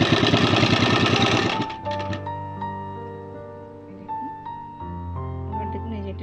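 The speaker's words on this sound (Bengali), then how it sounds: "তো দেখুন আমি সেলাই করছি।" A sewing machine stitching a fabric frock belt runs in a fast, loud, buzzing burst, then stops and leaves quieter tonal sounds.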